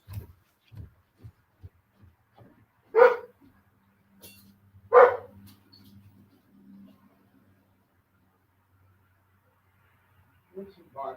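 A dog gives two loud barks nearby, preceded by soft thumping taps, with low rumbling and someone talking briefly at the end.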